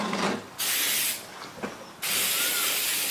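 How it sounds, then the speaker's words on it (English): Two long bursts of hissing spray, each lasting over a second, as lacquer is sprayed onto a wooden turtle in a workshop, with a quieter pause between them. "I bring the turtle back inside the shop and spray it with 2 coats of lacquer."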